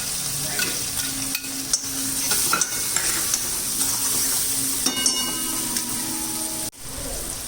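Asafoetida, ginger, chillies and onions frying in hot oil for a sandwich filling, a steady close sizzle with scattered stirring clinks and scrapes of a utensil against the pan.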